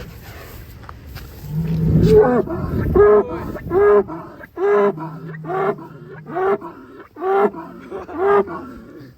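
A giant bull in a farm pen bellows repeatedly in loud, drawn-out moos, a series of calls close by with short pauses between them.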